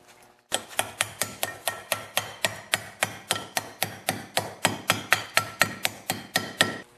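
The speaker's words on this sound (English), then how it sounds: "I'm going to install the bearing by tapping it with the hammer all around the outer edge" Steady metallic hammer blows, about three per second, ring out close and sharp in a regular rhythm as a wheel bearing is tapped into an ATV front hub, with no talking.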